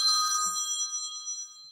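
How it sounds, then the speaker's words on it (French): A phone rings with a bright electronic ringtone tone that sustains and slowly fades over a couple of seconds, heard alone without talk in an indoor setting. "excusez-moi, le téléphone."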